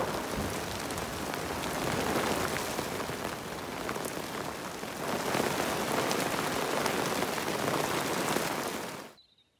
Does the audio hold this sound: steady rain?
yes